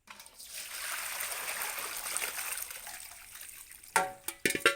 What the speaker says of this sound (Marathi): आता ह्यातनं काढून घेते सगळं पाणी